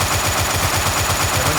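Rapid automatic gunfire in a Unity shooter video game, a loud, fast, evenly spaced burst of synthetic shots continuing steadily throughout without pause, no speech over it.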